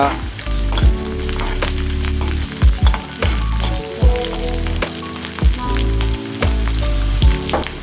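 Sliced garlic cloves, three dried red chilies and cumin fry in a pan, a loud close crackling sizzle with repeated scraping stirs and metal taps against the pan at an uneven rhythm, no talk.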